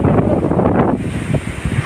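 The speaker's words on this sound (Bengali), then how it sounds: "হাওয়া ছুটেছে রে।" Strong wind gusts buffet the microphone in a loud, low rumble that eases after a second into a lighter rushing, with a voice briefly audible alongside.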